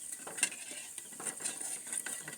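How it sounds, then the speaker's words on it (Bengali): Food frying until reddish-brown in a pan, with steady soft sizzling and repeated light scrapes and clinks of a utensil stirring, close and fairly quiet, no talking. "লালচে করে ভাজি করতে হবে"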